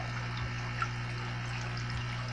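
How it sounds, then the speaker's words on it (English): Aquarium filter return water pouring down into a 75-gallon cichlid tank, a steady soft splashing trickle over a constant low hum, fairly quiet and continuous. "It catches some debris, but it actually helps from splashing from the water coming down"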